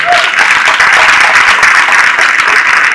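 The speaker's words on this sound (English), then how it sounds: "Give a round of applause." An audience at a bookstore talk applauds in dense, loud, continuous clapping that fills the whole stretch, with no voices coming through.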